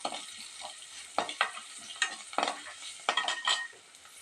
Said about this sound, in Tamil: கொஞ்சமாக நம்ம பெருங்காயத்தூள் ஆட் பண்ணிக்கலாங்க. அது மிக்ஸ் பண்ணிக்கலாம் நல்லா.